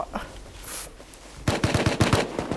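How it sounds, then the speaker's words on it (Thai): Machine gun fire in a Thai shooting video game: after a short lull, a rapid close burst of about eight loud shots. "มันไล่ยิงกู"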